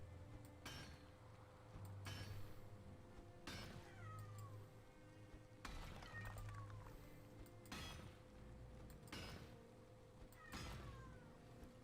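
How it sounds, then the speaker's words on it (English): A cat meows repeatedly in a loud, uneven series of calls with some drawn-out, wailing cries, sounding close over steady low background noise and game music. "Oh my god, cat."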